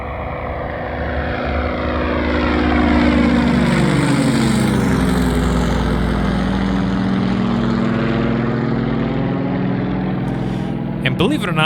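A Russian-built Yak propeller airplane drones loud and steady at a small airfield in Medina, its engine note rising then slowly shifting as it passes close by.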